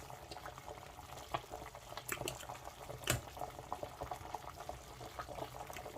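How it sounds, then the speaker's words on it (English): Nigerian black soup made with oziza and scent leaves boils in a pot, giving a faint, steady bubbling with small pops and one sharper knock partway through. "We allow it to boil it too before I will add my fish."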